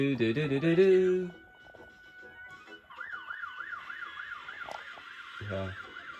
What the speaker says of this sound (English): It is a bit strange how they jump straight to the alarm sound, the alarm going off